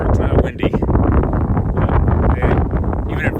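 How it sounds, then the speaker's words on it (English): Strong wind batters the microphone at White Sands National Park, a loud, rough, continuous roar with gusty surges, while a person talks beneath it. "it's windy like it always is"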